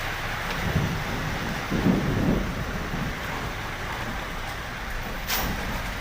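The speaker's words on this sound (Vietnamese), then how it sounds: "Vẫn còn mưa" Heavy rain falls during a storm in Dong Anh, Hanoi, a steady broadband hiss with soft low rumbles swelling twice early on, heard alone without voices.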